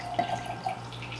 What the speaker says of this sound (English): Pour that into the glass.